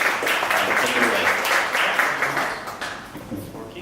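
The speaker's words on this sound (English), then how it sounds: "let's please give him a standing round of applause, bring him on stage" Audience applause greets a presenter coming on stage at a 1 Million Cups Dallas startup event, a steady dense clapping wash that tapers off toward the end.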